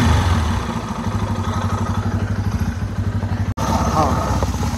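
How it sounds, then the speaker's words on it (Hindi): A motorcycle engine idling, a loud rapid chugging throb with steady rhythm close to the microphone, briefly cutting out before resuming, with a voice talking over it. "एक मिनट मैं पहले बाइक स्टार्ट कर लेता हूँ"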